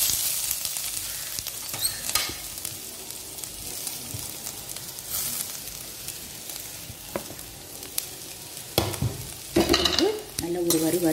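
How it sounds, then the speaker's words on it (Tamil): Grated coconut roasting in ghee in a pan, with continuous soft sizzling and repeated scraping stirs of a spoon, growing into louder clattering strokes near the end, with no talking. "நல்லா இப்படி வறுத்துருங்க தேங்காவை"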